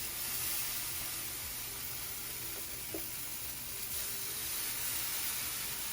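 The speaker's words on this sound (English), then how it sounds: "And now you're hearing that sizzle. That's what you want to hear." Steady, soft sizzling of protein pancake batter frying in a hot pan, a continuous hiss with faint crackles and no voices.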